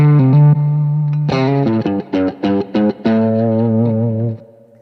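Electric guitar played through the clean channel of an amp with a boost and master volume up, drenched in reverb: sustained chords, then a run of short choppy stabs, then a long ringing chord that fades out, loud and alone.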